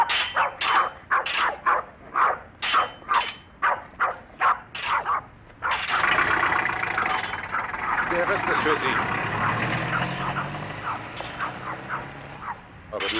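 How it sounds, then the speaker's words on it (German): A ruler clatters along a fence in a fast rhythmic run of knocks for about five seconds, then gives way to a rough continuous din with dogs barking and people talking. "Hast du gestern auch mit deinem Lineal hier am Zaun geklappert?"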